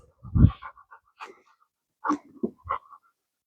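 A dog pants and huffs in short, uneven bursts close by at an outdoor rifle range, with quiet gaps between the breaths and no talking.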